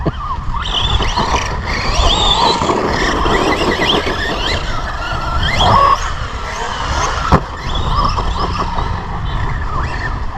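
Two electric RC monster trucks, a Team Associated Rival MT10 v2 and an Arrma Granite BLX 3S, race about with high whining motors that rise and fall, tyre squeals, and a sharp knock partway through.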